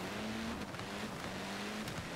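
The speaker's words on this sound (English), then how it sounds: "I like these little hoonigan cars. I like the way they handle," A Hoonigan car races along in Forza Horizon 4, its engine droning steadily at a low level with a few brief shifts in pitch and passing whooshes.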